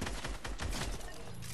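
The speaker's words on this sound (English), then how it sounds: "here's some shooting" Rapid gunfire in a duos shooter match, a dense burst of closely spaced shots filling a short moment, loud and continuous with no talk.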